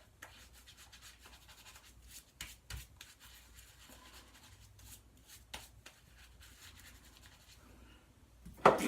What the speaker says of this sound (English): As I'm lathering up here